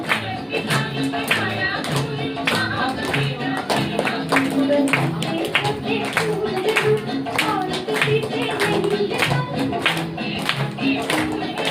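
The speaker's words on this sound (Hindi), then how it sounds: "मैं पेरेंट्स से गुजारिश करूंगी बच्चों की कोशिश को सराहना तालियों के माध्यम से अवश्य सराहते रहिए" Parents applaud children at a summer camp finale, a dense, sustained clapping texture running throughout, mixed with voices and music-like tones underneath.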